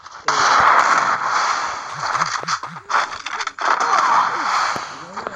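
Maxed-out guns firing in an online multiplayer video game, heard as dense crackling bursts and pops that run almost continuously over a busy background of game noise.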